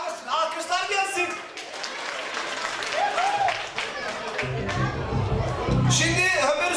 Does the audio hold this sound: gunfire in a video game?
no